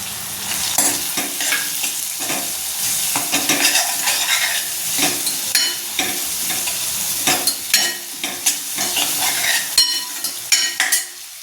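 Vegetables fry loudly in a pan as red chili, black masala, turmeric and salt go in, with constant sizzling, repeated scraping stirs and utensil clinks against the pot, no voices.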